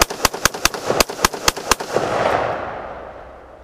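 An AR15 rifle fires eight loud rapid shots in a quick, fairly even rhythm outdoors, and a long echo trails off after the last report.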